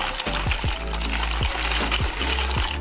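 Dry macaroni pours into a cooking pot for homemade mac and cheese, making a steady, close rushing patter that runs the whole time with no talking.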